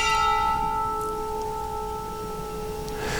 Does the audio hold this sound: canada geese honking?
no